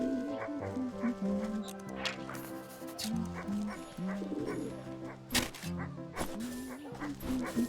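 A small dog in the video game Wytchwood whimpering and yipping in anxious, rising whines broken by short barks, close and persistent over a light game backdrop.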